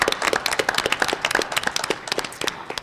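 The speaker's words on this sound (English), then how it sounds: "let's give them a round of applause for all that they do" A board of education meeting audience applauds the district's school bus drivers, a steady roomful of dense, crisp hand claps close by with no talk over it.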